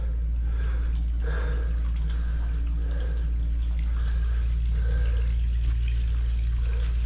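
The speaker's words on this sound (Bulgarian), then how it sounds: "Мазето беше пълно тук с вода. И ето как почва да се събира." Water draining from a blocked basement out through the outer manhole of an apartment block, a steady close rushing and gurgling flow with a deep rumble underneath.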